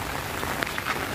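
Rain falling at a quiet sea beach near Bakkhali, a steady dense patter of drops on surfaces with a few sharper nearby splashes, continuous and fairly loud with no voices.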